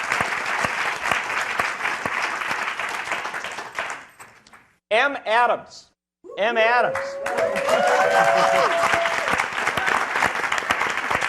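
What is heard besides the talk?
applause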